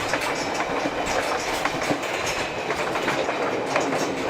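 Steady rumble of a train rolling along the tracks, with a faint rhythmic clatter of wheels throughout, close and continuous.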